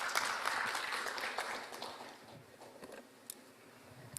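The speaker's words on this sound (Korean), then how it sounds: "여러분 큰 박수 부탁드리겠습니다." Audience applause at a 2021 Daegu business conference as a keynote speaker is introduced, a dense wash of clapping that is loudest at the start and thins out over a few seconds.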